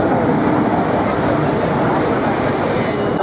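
An Indian passenger train runs along the line with a loud, steady, dense rumble and clatter that fills the whole stretch without a break.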